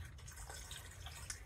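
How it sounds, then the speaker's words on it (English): No-rinse shampoo is poured into a small bucket holding water, a faint liquid trickle and splash that runs through the short clip without any talking. "I'll just pour my no-rinse shampoo directly into the bucket"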